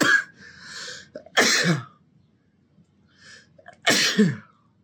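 Two sharp sneezes a few seconds apart, close and loud, each with a short breathy intake before it, with quiet pauses between.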